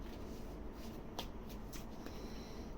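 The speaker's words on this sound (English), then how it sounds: "You see me shuffling the cards, right?" Tarot cards are shuffled by hand close up, giving soft papery riffles and a few crisp slaps over a quiet background.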